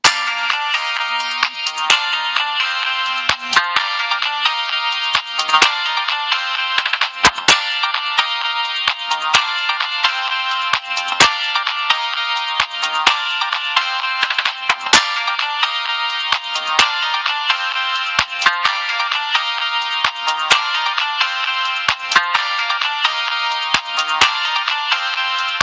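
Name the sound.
Motorola C168i phone ringtones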